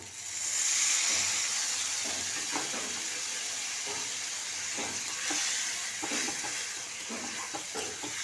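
A little water poured into a hot frying pan during an egg chingari recipe, giving a soft continuous sizzle and hiss with light stirring taps, fairly quiet and without talk.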